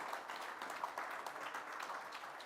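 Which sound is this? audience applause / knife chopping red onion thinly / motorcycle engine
audience applause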